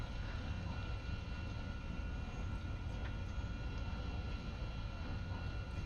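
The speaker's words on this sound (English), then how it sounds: "The plane is quite loud" An MD-11 airliner in the X-Plane 12 flight simulator gives a loud, steady engine roar with a constant whine layered on top, unbroken and close throughout.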